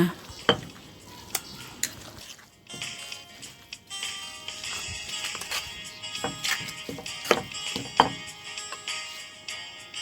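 Thai jaew pla ra dip stirred and mixed in a bowl, with irregular scraping and clinking of a utensil against the bowl, close and fairly quiet, with louder taps scattered throughout.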